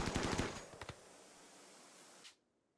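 Rimworld turret firing in a quick rapid burst of sharp shots, followed by a couple of isolated pops and a faint hissing tail that cuts off abruptly, fairly quiet overall.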